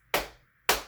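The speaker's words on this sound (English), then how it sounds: "I would like for you to move your whole arms and pat your sides with your fingertips." Two sharp slapping pats of fingertips on a person's sides about half a second apart, close and alone.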